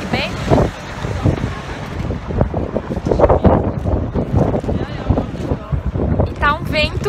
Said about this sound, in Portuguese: E tá um vento muito forte.